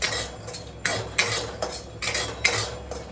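Roasted peanuts stirred in a pan in a home kitchen: a series of sharp scraping and clattering bursts, roughly five strokes in three seconds, close and fairly loud, with no voices.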